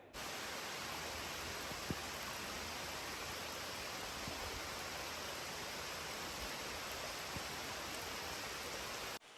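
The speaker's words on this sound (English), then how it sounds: "as the rain comes down heavy" Heavy rain falls beside the Summerhill Force waterfall, making an unbroken, even roar of rushing water and downpour that stays constant from start to finish.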